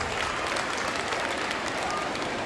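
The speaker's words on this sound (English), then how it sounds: "They deserve a bigger round of applause, parents." Parents applauding at a school Parents' Day event for pre-primary and primary pupils, a continuous, even wash of many hands clapping, moderately loud throughout.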